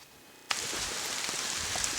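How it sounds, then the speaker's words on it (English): Hail falls outdoors on a mountainside in sunshine, starting suddenly as a dense, steady patter with scattered sharper ticks of individual stones landing close by. "it's sunny, but it's actually hailing out. There's hail falling."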